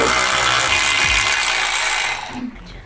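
A hand ratchet works at rusted, corroded exhaust bolts on a 2020 Toyota Corolla, with loud close clicking and strained mechanical noise that fades out near the end.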